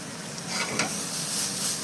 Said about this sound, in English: Perfect sizzle. Look at that. Look at the little browning.